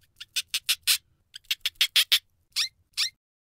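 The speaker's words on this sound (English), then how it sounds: "Hamster." A hamster gives a run of high, sharp squeaks in quick bursts, clear and close, followed by two more spaced squeaks, with no talking.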